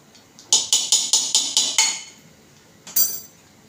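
A metal spoon stirs soybean rice with ghee in a cooking pot, giving seven quick rhythmic clinks and scrapes against the pot, then a pause and two more. The sound is close and clear, with no talking.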